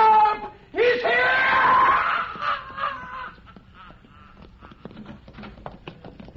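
A woman's shrill, drawn-out scream for help in a suspense radio drama, loud and close, breaking a quiet street scene, then fading into faint clattering and doors opening.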